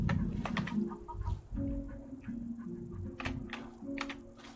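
Video game chicken clucking and squawking after being struck, a series of close, loud, agitated clucks in irregular bursts with brief pauses between them.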